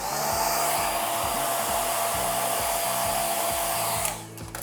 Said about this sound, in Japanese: ドライヤーの風で落とします。